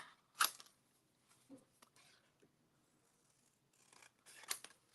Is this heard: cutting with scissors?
yes